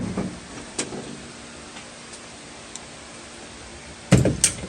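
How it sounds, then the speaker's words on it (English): A vintage Ford Mustang II car door swings shut in a workshop, landing as one sharp close thud with a quick rattling follow-up near the end, after several seconds of quiet room tone. "Let's close the door."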